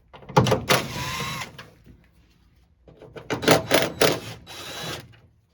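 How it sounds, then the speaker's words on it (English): Bolts on a 2007-2013 Toyota Tundra tailgate hinge being removed with a T30 Torx bit on a power driver, heard as two loud whirring bursts close up, one early and a second longer, ratcheting one after a pause. "Remove these two bolts using a T30 Torx bit"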